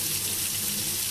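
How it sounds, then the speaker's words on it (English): Tap water runs steadily into a sink for rinsing sprouting wheat, a close, constant splashing rush with no pauses or voices. "So I'm going to get my water going again."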